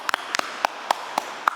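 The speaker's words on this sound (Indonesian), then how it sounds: "tepuk tangan untuk dia" A handful of sparse, sharp claps sound in a church congregation, about six distinct hand claps spaced unevenly over a quiet background rather than full applause.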